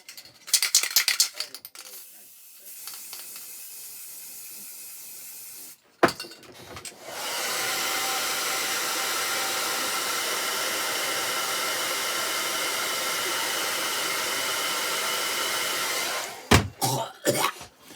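An aerosol can sprays transparent red varnish in a long, loud continuous hiss lasting about nine seconds, preceded by rattling and a shorter burst, with brief speech at the start and end.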